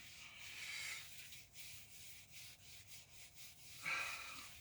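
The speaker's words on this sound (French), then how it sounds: "On va venir frotter plusieurs fois." A small brush scrubs a wet car wheel rim in repeated close, rasping strokes that swell and fade in a back-and-forth rhythm, with one louder stroke near the end.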